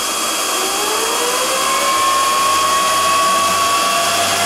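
Cooling fans on a Bitmain Antminer S9 bitcoin miner spinning up to high speed, a loud, dense whooshing roar with a whine that climbs in pitch and then holds steady, close by and without speech.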